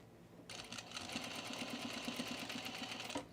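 A sewing machine stitches over a thick seam with a rapid, slightly labored rhythmic clatter, starting after a brief pause and running close and steady before stopping.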